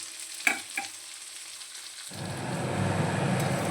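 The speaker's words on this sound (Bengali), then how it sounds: "আলুগুলো ভাজা হতে থাক।" Potatoes seasoned with salt and turmeric fry in a pan, a couple of light knocks giving way to a steady, close sizzle that swells and fills the rest of the clip, with no talking.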